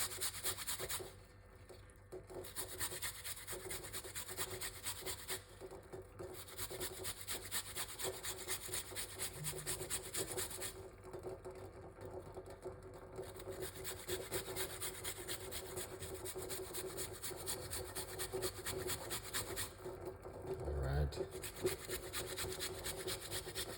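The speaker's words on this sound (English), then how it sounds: "let's grate a piece of a ginger" Fresh ginger root rubbed against a grater in steady back-and-forth rasping strokes, close and continuous with brief pauses, no talking.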